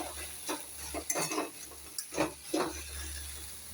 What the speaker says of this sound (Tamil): கத்திரிக்காய் நல்லா வெந்துருச்சு. இந்த மாதிரி நல்லா மசிச்சு விட்டு